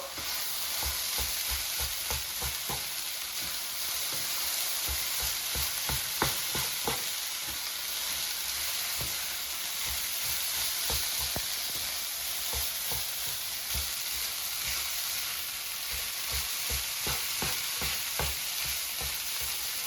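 Rice being stirred with caramelized mango in an oiled frying pan, a constant sizzle under repeated scraping strokes of a utensil against the pan, close and steady with no talking.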